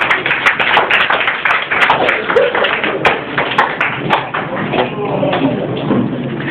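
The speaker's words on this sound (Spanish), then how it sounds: "Den un aplauso al Rey." Church congregation applauding, with uneven clapping and taps spread through a room while voices and talk run through it.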